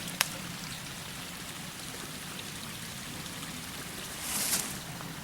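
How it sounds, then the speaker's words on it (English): A wilderness creek flows with a steady, soft rushing and trickling wash, joined by one sharp click near the start and a brief louder splash toward the end. "Listen to that creek."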